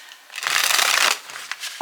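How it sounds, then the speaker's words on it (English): A deck of tarot cards is riffled and shuffled close up, a quick papery flutter lasting about a second followed by a couple of soft card taps. "we're going to go ahead and get the tarot to kind of break these cards up a little"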